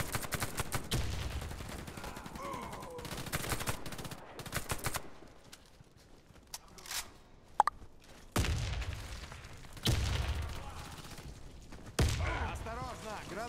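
Grenade explosions and bursts of gunfire ring out during a first-person shooter match, several loud, abrupt blasts with rapid firing between them and quieter stretches in between, with voices calling out.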